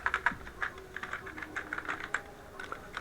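Rapid keystrokes on a computer keyboard while typing Python code, a steady run of light clicks with short pauses, close and clear with no talking.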